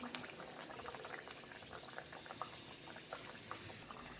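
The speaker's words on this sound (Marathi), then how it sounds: "आता आपण या कचोऱ्या तळून घेणार आहोत" Quiet, continuous bubbling of Shegaon-style kachoris frying in hot oil, with a steady crackle and small pops and no one talking.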